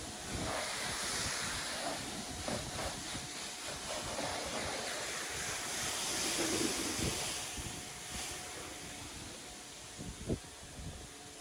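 Water spray rinsing snow foam off a van, a steady broad hiss of the jet against the bodywork running continuously, close to the spray and fairly loud, with no talking.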